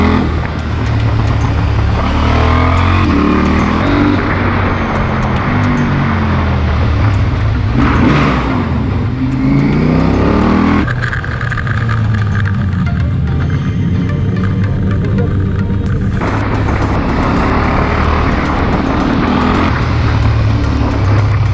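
Motorcycle engines on a mountain road toward the Col d'Aubisque in the Pyrenees drone loudly and continuously, with wind noise and shifts in pitch as the bikes change gear and speed, with no talk.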